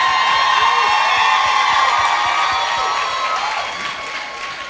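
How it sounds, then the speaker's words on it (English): Dense, continuous audience applause with cheering at a live show in Nassau, the Bahamas, filling the room loudly and then easing off slightly toward the end. "Let's give them a round of applause."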